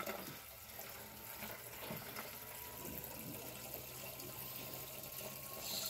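Water steadily filling a DIY venturi skimmer setup, a continuous soft rushing and trickling with a faint pump hum underneath, no talking.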